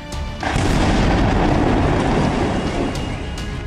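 Explosion outside a CRPF school in Rohini, Delhi: a sudden loud boom that swells into a sustained, dense roar of rumbling noise for several seconds, with no voices.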